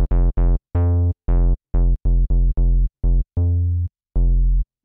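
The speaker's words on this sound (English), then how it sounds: "it's basically just like a really fat kind of saw wave and square wave combo" Fat synth lead layering a saw wave with a square wave, played as a run of loud, separate buzzy notes of varying length with short gaps, alone without any talking.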